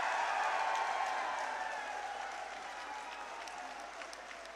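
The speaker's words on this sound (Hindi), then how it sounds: "जोरदार तालियां से स्वागत।" Applause from a large crowd at a BJP political rally in Adampur is heard as a continuous, wash-like roar of many hands. It is loudest at the start and slowly thins out.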